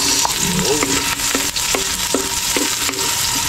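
Garlic and onion sizzling loudly in a hot pan for a coconut-milk dish, a steady dense frying hiss close up, with the scrape and clack of a spatula stirring at regular intervals.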